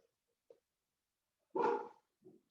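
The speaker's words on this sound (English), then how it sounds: "Ooh, the dog's awake." A single distant dog bark rises out of near silence, preceded and followed by faint short whimpers, with no talking.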